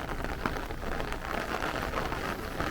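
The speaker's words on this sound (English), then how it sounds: "It's still raining." Rain pours steadily in Brooklyn during a weakening thunderstorm, a dense, even hiss of drops on surfaces with no thunder or voices.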